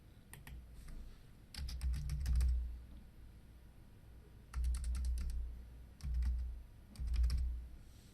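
Typing on a computer keyboard, quick bursts of soft close key clicks with pauses between them, over a low hum.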